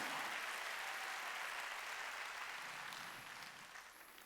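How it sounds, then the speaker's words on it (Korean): A church congregation at a Sunday worship service claps together in a dense, steady roar of applause that gradually softens toward the end, with no voices standing out. "박수 치라."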